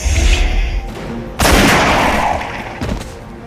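Film gunfire in a sci-fi action scene: a loud, dense burst of shots and crashing impacts erupts after a rumbling opening, followed by a few further bangs, with some voice mixed in.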